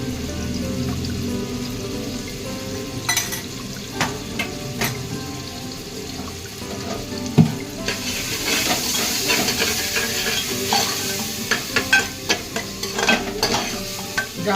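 Masala frying in a pan, with a constant close sizzle and irregular scraping stirs of a spoon that grow busier and louder toward the end, no voices present.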